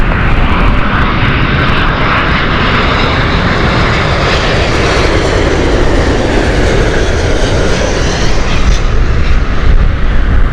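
At Heathrow Airport, an airliner landing on runway 27 left gives a loud, continuous, close jet roar that stays steady throughout.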